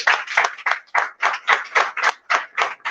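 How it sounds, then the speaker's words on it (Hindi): A small audience claps in an institute hall during a speech event, a steady run of about a dozen distinct hand claps at a brisk, slightly irregular rhythm, fairly close and clear with no talk over it. "उसके लिए एक जोरदार तालियां धाद के लिए होनी चाहिए।"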